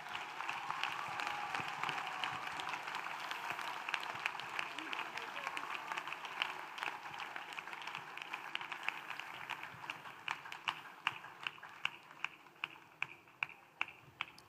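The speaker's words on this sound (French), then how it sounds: "Acclamez. Clap." A church congregation claps and applauds during a service, a steady wash of many hands at moderate distance with a voice speaking over it, thinning toward the end into a few sharp, spaced claps.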